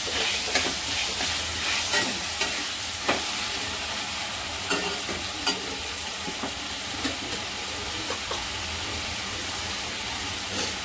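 Finely chopped tomato fries in a pan for dhaba-style dal khichdi, a continuous close sizzle broken by regular scraping taps of a spoon stirring the mix.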